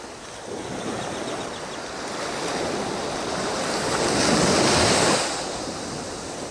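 Calm ocean surf washes onto the beach at Surfside, Texas, a steady broadband wash that swells into a louder breaking wave near the end, with some wind across the microphone and no voices.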